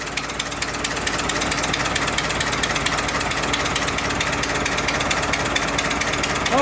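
A 1924 Dodge engine idling with an exhaust leak, a steady close mechanical rumble with fine rapid ticking that holds at an even level throughout.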